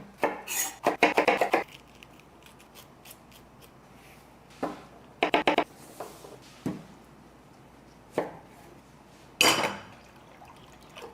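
Jalapenos are prepared on a cutting board, with several clusters of sharp knife taps and clacks against the board separated by quiet gaps, close and alone.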